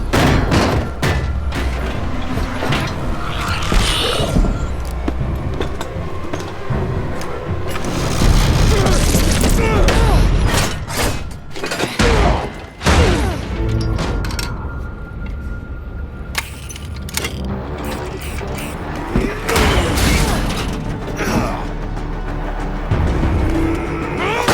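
Bomb explosion in an animated series, a loud, dense soundtrack of booming blasts and rumbling crashes with sharp impacts throughout, set against a heavy continuous roar and occasional voices.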